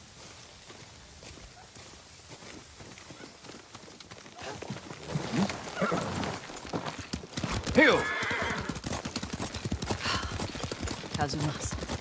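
In the video game Ghost of Tsushima, horse hooves clip-clop at a steady riding gait, with a clear neigh partway through and the pace picking up, under occasional spoken dialogue including a short shouted greeting.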